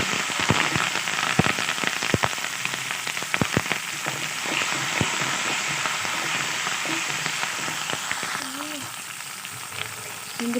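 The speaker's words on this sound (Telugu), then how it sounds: "ఆ తర్వాత కరివేపాకు వేసి బాగా ఫ్రై చేసుకోవాలి." Curry leaves and ginger-garlic paste sizzle and crackle in hot oil for pulihora, a dense steady frying hiss with scattered sharp pops and light stirring, close and loud with no talking.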